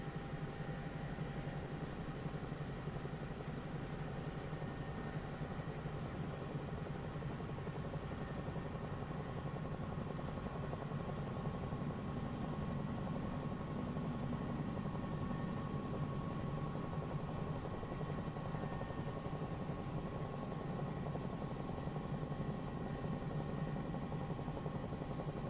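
A helicopter in a flight simulator game slows to land, its rotor and engine drone holding steady and moderately loud with a low rumble throughout, no voices.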